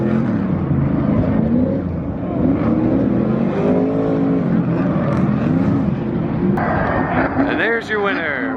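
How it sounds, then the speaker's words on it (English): Stadium super trucks race at Texas Motor Speedway, engines roaring and revving continuously at a distance as they pass, with a crowd and people talking and cheering nearby throughout. "Super truck race just ended."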